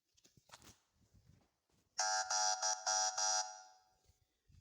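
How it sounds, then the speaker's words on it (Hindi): A mobile phone's anti-theft alarm goes off after being pulled from a pocket, blaring a loud, shrill electronic tone in several rapid pulsing bursts after some faint rustling and handling noises. "इसने खुद ब खुद अलार्म स्टार्ट कर दिया"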